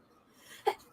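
A single sharp sneeze bursts out near the end of a quiet second, close and fairly loud, with faint room noise before it.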